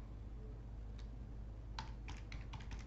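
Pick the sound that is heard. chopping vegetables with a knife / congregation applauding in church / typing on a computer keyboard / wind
typing on a computer keyboard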